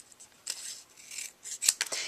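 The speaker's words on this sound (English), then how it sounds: "I'm going to cut as close to the edge as I can" Scissors snip through a scrap of basic gray cardstock while cutting close to a Halloween paper bag album piece, giving several short crisp cuts in an irregular rhythm, close and fairly quiet, with no talking.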